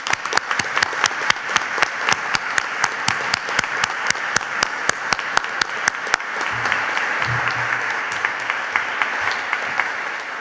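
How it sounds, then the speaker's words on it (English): An awards-ceremony audience gives a round of applause, with sharp, evenly spaced claps close by over a broad wash of clapping that thins and then swells again with scattered claps. "can we celebrate all of his work, please, with a round of applause?"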